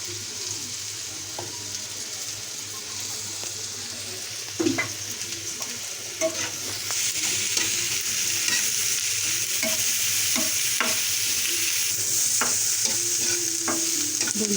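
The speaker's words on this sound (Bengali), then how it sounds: "এগুলো এখন ভাজবো।" Freshly cut chillies fry in a pan with a steady, close sizzle throughout, punctuated by occasional clinks and scrapes of stirring and growing slightly louder partway through, with no talking.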